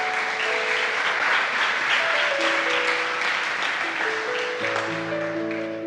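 A church congregation applauds steadily and loudly throughout, a dense wash of clapping with sustained organ or keyboard tones underneath and no talking.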